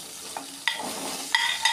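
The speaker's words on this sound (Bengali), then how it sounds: "এখন আমরা প্রথমে আলুটা দিয়ে দিচ্ছি।" Potato pieces go into hot oil in a pan for a home-cooked vegetarian soybean curry, setting off a steady sizzle punctuated by a few sharp clinks and scrapes of stirring, close by.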